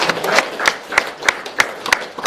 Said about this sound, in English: Round of applause for North Launceston.